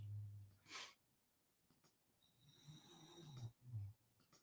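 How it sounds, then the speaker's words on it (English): Low, rumbling snores from a sleeping dog, a few rough breaths close by with quiet pauses between them. "if you guys can hear any snoring, that's my dog"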